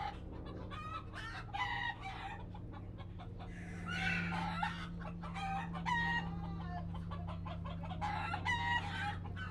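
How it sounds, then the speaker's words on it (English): Chickens cluck in a steady, close barnyard chatter while a rooster crows repeatedly over them, with a low constant hum running beneath. "My goodness, those chickens are going in."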